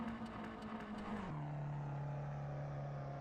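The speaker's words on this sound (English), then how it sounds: "Now chooses to keep the engine revs low coming through Shell Oils." EnduroKa endurance race car at pre-season testing, engine drops to low revs through the Shell Oils corner, a steady close drone that falls in pitch after a second and holds a lower hum.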